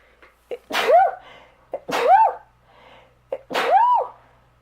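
Three loud, close sneezes in a row, each with a quick sharp intake of breath before the burst.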